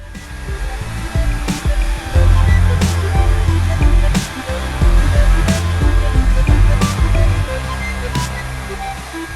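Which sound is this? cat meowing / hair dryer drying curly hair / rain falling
hair dryer drying curly hair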